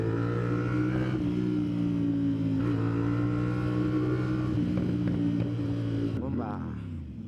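A 450 SR motorcycle fitted with an SC Project exhaust, out on a night ride in Malolos, Bulacan, drones loud and close with a rich throaty tone, swelling in several sharp revs before settling lower at the end.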